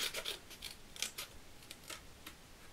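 Scissors snip through a stamped paper teddy bear for a birth card, giving a series of short, crisp cuts and rustles, close and quiet, with no voices.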